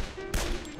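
A single gunshot in a retro-style zombie shooter cracks out sharply mid-clip, followed by a brief decaying tail over a steady background of game sound.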